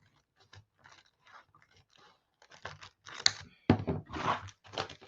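Paper being cut open with scissors to form a pocket in a handmade junk journal, heard as a run of close, crisp snipping and rustling bursts that grow louder toward the end.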